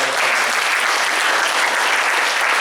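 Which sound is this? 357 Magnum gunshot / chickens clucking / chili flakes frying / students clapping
students clapping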